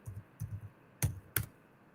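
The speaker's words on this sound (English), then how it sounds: "I'm typing it in the chat." Computer keyboard typing in short bursts, a few soft clustered keystrokes followed by two sharper, louder clicks, close and alone with no voices.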